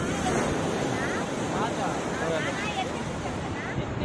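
Steady roar of ocean surf washing on Pakala Beach, Singarayakonda, with constant wind buffeting and a few faint voices underneath.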